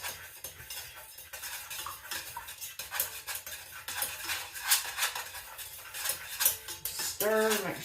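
A utensil stirs a candle wax mixture inside a container, making soft scraping clinks and taps that come close and fairly quiet, with a brief louder rattle near the end.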